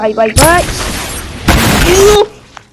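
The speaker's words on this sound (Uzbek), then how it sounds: "zombilar bor ekan, shularni portlatib ko'ramiz" Explosions blowing up zombies in a video game: two loud, sharp blasts, each followed by a rumbling tail, with an excited voice calling out over them.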